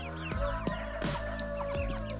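Domestic chickens cluck repeatedly at close range, with several short clucks and calls in an irregular rhythm over a steady farmyard background and no talking.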